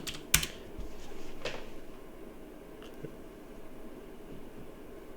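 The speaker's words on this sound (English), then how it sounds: "open a new tab and then type github.com" A computer keyboard clicks faintly as someone types, with a sharp tap at the start and a few scattered keystrokes over a quiet background hum.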